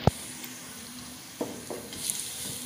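Onions fry in ghee in a pan with a continuous close sizzle, punctuated by a sharp clack at the start and a few softer stirring knocks later.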